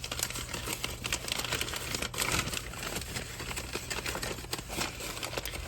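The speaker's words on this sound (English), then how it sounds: "see if we can unwrap this one carefully" Close crinkling and rustling of wrapping as a Waterford crystal glass is carefully unwrapped, a steady dense crackle with no voices.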